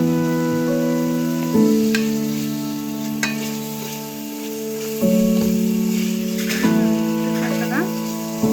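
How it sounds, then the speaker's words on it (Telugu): Cumin, coriander and masala powders fry and are stirred in a pan for prawn biryani, giving a steady sizzle with scraping strokes, under background music and a speaking voice. "బాగా ఫ్రై అవుతుంది."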